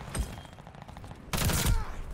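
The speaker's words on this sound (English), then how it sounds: "I hear more gunfire over here." Gunfire in the Call of Duty: Vanguard video game, a few muffled shots early on, then a louder, denser burst of fire from about halfway through, with no talking.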